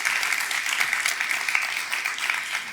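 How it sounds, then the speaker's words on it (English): Conference attendees give a steady round of applause, a dense wash of hand clapping heard at moderate volume for a few seconds with no talking over it. "Yes, an applause for you."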